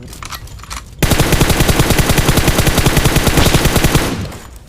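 Automatic rifle fire in PUBG Mobile, one long, loud, evenly rapid burst of shots that cuts in abruptly after a quieter start and runs for about three seconds before fading.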